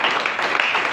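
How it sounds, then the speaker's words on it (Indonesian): A church congregation claps together during a sermon in a short, dense burst of applause. "Kita beri tepuk tangan yang meriah."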